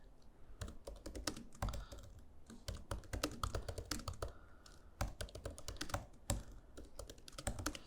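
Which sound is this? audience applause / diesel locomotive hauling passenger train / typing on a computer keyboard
typing on a computer keyboard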